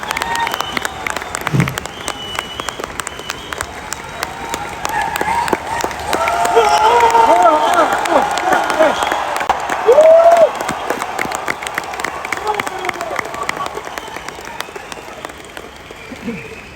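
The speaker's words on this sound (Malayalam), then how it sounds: "കൈയടിച്ചാൽ നിങ്ങൾ കൊള്ളാം." An audience claps and cheers at a motivational talk, a broad swell of applause rising in the middle and tapering off, with a voice speaking over parts of it.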